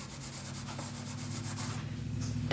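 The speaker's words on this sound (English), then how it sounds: "So now I'm going to go ahead and prep this with my powder bag here for embossing" An embossing powder bag is rubbed over paper to prep it for stamping, giving a quiet, steady dry scuffing with faint rhythmic strokes against a low background hum.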